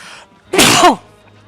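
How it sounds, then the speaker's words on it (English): A single loud, close sneeze bursts out sharply, followed by quiet. "I had to sneeze."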